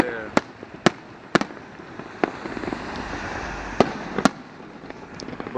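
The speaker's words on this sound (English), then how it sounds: "This fireworks display." Borgata fireworks display with scattered sharp booms and pops spaced irregularly, some followed by soft crackle, heard from a distance with a voice talking faintly at times.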